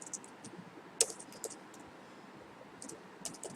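Fingers type on a computer keyboard, a quiet, irregular patter of soft key clicks with one sharper tap near the start and brief bursts of keystrokes separated by short pauses.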